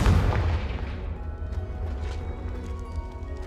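A Confringo fire spell goes off in Hogwarts Legacy, opening with a loud booming blast that trails into a rumbling fiery roar and crackle.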